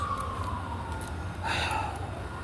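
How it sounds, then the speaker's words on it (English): A siren wails faintly in the distance, its tone sliding as it passes, over a low background rumble with a brief louder swell midway. "always some police sirens going by my fucking house"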